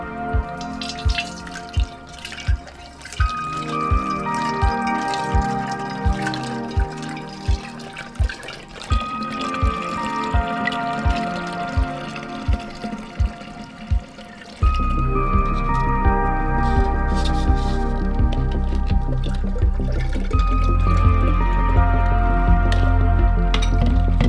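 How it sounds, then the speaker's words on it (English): Cooled homemade beer wort pours into a fermentation bottle, a steady liquid trickle and gurgle with rhythmic dripping pulses, growing fuller and heavier partway through, with no talking. "we're going to pour it into our fermentation bottle"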